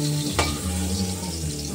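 Eggplant fries in hot oil with a constant sizzle and a single sharp scrape as pieces are lifted out of the pan. The sound is close and steady.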